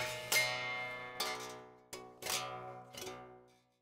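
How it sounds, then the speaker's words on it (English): A piccolo bass is picked through a room microphone, with four or five ringing notes or chords struck about once a second, each decaying slowly before the next, then fading out. "you can hear that I'm playing my Piccolo bass right now."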